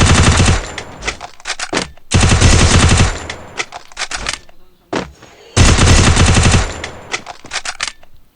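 Loud rapid machine-gun bursts of gunfire in the PC video game Free Fire, three long sustained volleys with scattered single shots and pauses between, close and dominant with no talk.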